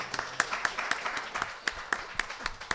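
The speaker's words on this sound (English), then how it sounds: "Let's give them another round of applause for Guarneri's tonight." A small group claps for a local restaurant sponsor, a modest round of fairly close, distinct hand claps in an uneven rhythm.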